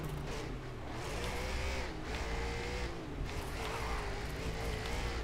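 A Koenigsegg race car engine in the racing video game Race Driver: GRiD drones steadily and loudly throughout, with small swells in pitch as the car is driven around the track.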